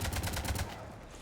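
Rapid gunfire in Mass Effect 3, loud bursts clustered in the first half second, then fading into a quieter ringing tail.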